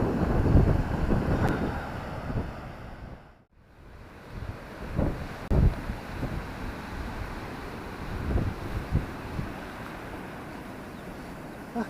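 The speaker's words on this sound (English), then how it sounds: "A bit windy though." Wind gusts across a Norfolk beach by the sea, a rumbling roar buffeting the microphone with a brief lull, surf washing faintly underneath.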